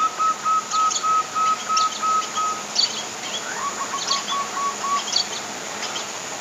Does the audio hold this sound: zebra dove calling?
yes